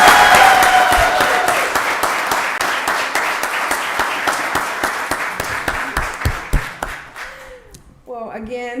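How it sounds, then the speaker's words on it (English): Audience applause at a county board of commissioners voting session, a dense round of many hands clapping that gradually thins into scattered individual claps before a voice speaks at the end. "Give them another round of applause."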